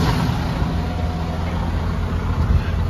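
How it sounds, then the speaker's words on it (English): Early-morning foodservice delivery truck's engine as it creeps forward, a steady low rumble with broadband road and engine noise, close and fairly loud, with no talking. "About to move my truck up a little bit."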